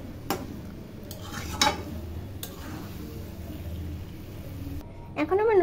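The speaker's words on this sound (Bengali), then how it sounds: "সরি, আমি নুডলস মিক্স করবো।" Chicken noodles being mixed in a pan, giving a few soft scraping and tapping clicks over steady low kitchen background noise, with a brief voice near the end.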